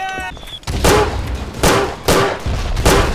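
Gunfire in the World War I shooter Verdun, four heavy, booming shots about a second apart after an opening electronic beep, loud and close with rumbling decays between them.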